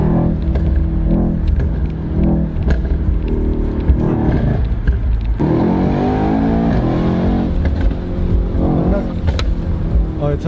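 A Mercedes-Benz E63 AMG rated at 571 PS revs loudly and continuously, its engine roar rising in pitch around the middle, with people talking over it nearby.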